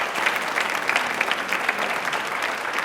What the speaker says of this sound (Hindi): तालियां जोरों से बजानी, जोर एक बार बजा दीजिए जोरों से।